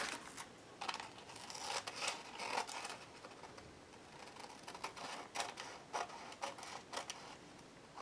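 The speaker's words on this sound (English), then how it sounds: "So just cut off that excess." Excess paper is trimmed from an envelope lined with a Gelli print. Quiet, scratchy cutting and crinkling come in short irregular bursts, close but faint.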